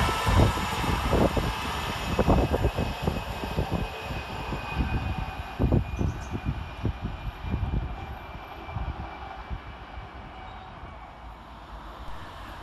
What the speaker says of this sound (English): Northbound now through the station is 331022 and 331018